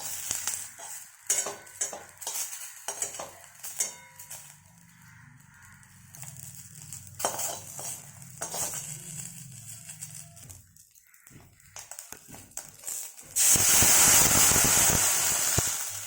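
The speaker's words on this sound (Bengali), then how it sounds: "এখন কই মাছটা একটু ভেজে নিই" Koi fish frying in a little oil in a pan, with soft clinks and stirring at first, then a loud, steady hiss of sizzling that bursts up near the end.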